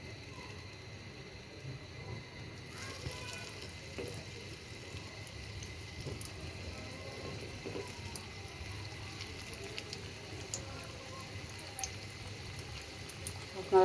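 Snacks sizzle in hot oil over a lowered stove flame, a quiet, steady frying hiss that runs throughout while someone speaks over it.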